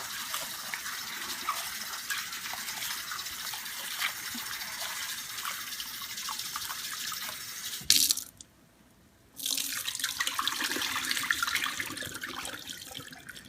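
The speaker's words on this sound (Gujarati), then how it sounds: "તો તમે લગભગ 3 વખત એને ધોજો ને એને મસળજો।" Black-eyed peas are washed and rubbed under a running tap, a continuous close gush of water that cuts off for about a second midway and then resumes, with faint rubbing noises.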